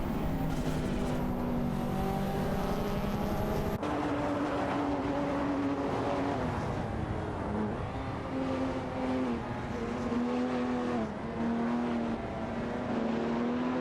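A Chevrolet Corvette C4 ZR1 and a Dodge Viper GTS CR99 dueling in a racing game, their engines a loud, continuous droning roar with slowly wavering pitch and no gaps.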